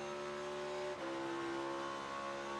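A race car in practice and qualifying for the Enjoy Illinois 300 climbs up through the gears, its engine droning loudly and continuously with one brief break in the note as a shift comes through.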